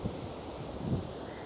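Steady wind roars by the sea at high tide, a continuous broadband rush with faint surf beneath and brief gusts buffeting the microphone.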